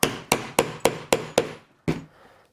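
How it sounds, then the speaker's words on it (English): A hammer strikes a hole punch driven through three layers of leather, six sharp evenly spaced blows in quick succession followed by one final hit after a short pause, close and clear with no talking. "And you have to hammer it quite a few times to make sure it goes through."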